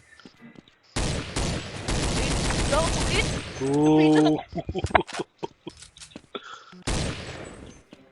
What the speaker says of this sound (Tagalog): Hindi ba kasi yung putok sa AK?